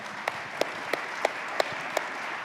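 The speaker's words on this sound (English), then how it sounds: "I think all of that deserves a round of applause." An audience at an energy and battery technology event gives a light round of applause, a sparse wash of clapping punctuated by a few sharp, louder individual claps at roughly regular intervals.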